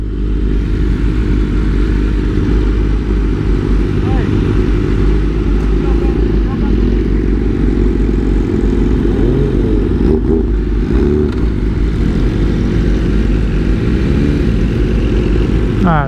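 A BMW M1000RR sport bike accelerating hard on a timed run, its engine a loud, continuous roar that climbs through gears with brief shift dips, alongside wind buffeting close to the rider.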